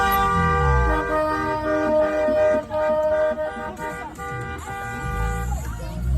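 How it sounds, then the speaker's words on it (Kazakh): Wedding cars arriving at a Kazakh family home for a bride's welcome, sounding sustained, overlapping horn blasts loud and close, with crowd voices and commotion mixed underneath. "Жастар осылай бейбілдатып, сигналдатып жетіп келді ғой"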